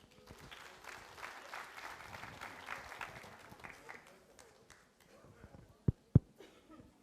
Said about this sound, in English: we'd just like to invite the audience just to give them a round of applause